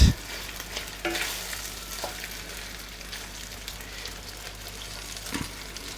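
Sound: butter melting and sizzling in pot

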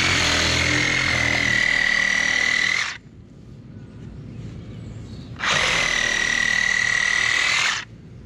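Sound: sawzall cutting foam off fence post

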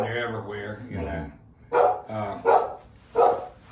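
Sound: dog barking

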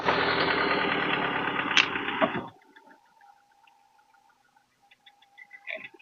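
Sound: car engine running in engine bay

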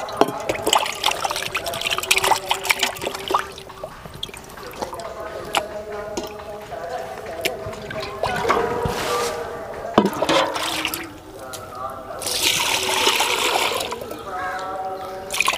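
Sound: washing beef pieces with running water

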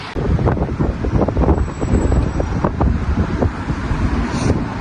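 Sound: wind

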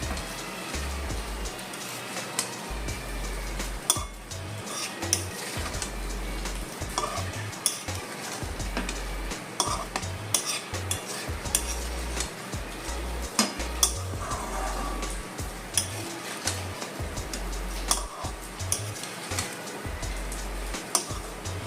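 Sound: stirring broken wheat (dalia) and lentils together in a pan

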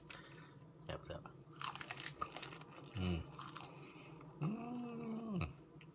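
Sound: crunchy food being chewed

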